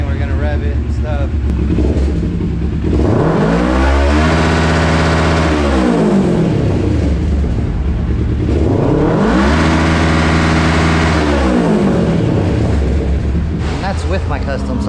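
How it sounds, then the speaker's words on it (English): A 2019 Kawasaki Ninja 650 motorcycle engine with a custom silencer being revved hard twice, each rev climbing from a loud idle to a high roaring peak and falling back, close and dominant throughout. "we're gonna rev it and stuff."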